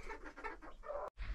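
A hen on a small farm clucks softly among her chicks, a few close, low murmuring calls in quick succession.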